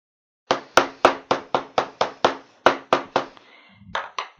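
A hammer strikes the back seam of a leather shoe in about a dozen sharp, evenly spaced taps, close and crisp, with a pause before a few final lighter blows.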